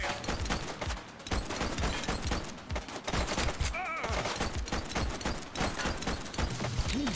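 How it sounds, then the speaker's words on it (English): Dense bursts of rapid gunfire crackle almost without pause in a police shootout from the video game The Precinct, loud and continuous, with a brief shout partway through. "She's shooting!"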